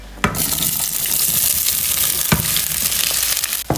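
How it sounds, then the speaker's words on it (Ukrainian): Vegetables for a vegetable stew fry in hot oil in a pan, a steady broadband sizzle running throughout, with a sharp burst as they hit the oil and a few clanks of stirring. "Додаємо олії, відправляємо наші всі овочі обсмажуватись."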